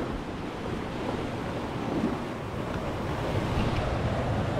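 Sea waves rolling in at Kondura beach near Vengurla on the Konkan coast: a steady, full surf roar with wind buffeting the microphone throughout, no voices.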